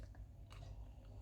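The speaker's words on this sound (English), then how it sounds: "I'm just showing you guys that I'm actually eating this egg" A runny poached egg is eaten close to the mic with soft, faint biting and chewing sounds, a few moist chomps in a brief quiet moment.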